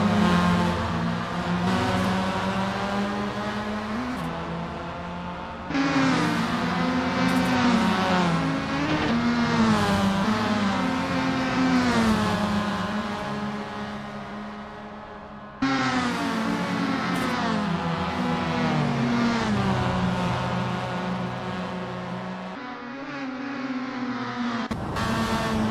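Formula Mazda race car engines roar in Assetto Corsa at Zandvoort, a loud sustained whine with gear shifts and rising and falling revs, the tone dropping off twice before climbing again, with no talk over it.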